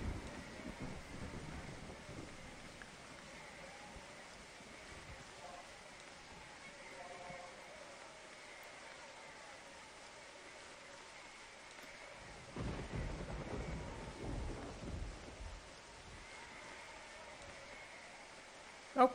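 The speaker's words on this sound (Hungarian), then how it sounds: "meg állandóan szakad az eső" Heavy rain pours steadily in the video game Dread Dawn, with thunder rolling underneath, fairly faint overall and swelling briefly toward the end.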